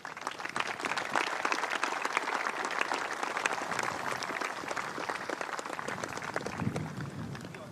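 An audience claps steadily through the whole stretch, dense and even, at a cricket event celebrating a world-record 222 runs in 10 overs.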